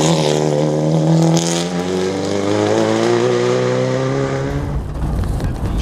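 A rally car races along a stage at the National Capital Rally, its engine loud and close with a strained, rising drone that shifts pitch as it powers past.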